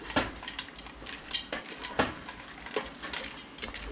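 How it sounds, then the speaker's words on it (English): A spoon stirs Korean beef with green onion and roasted peanuts in a pot, making close, light metallic clinks and scrapes in an uneven rhythm. "we're just going to give this a little bit of a stir."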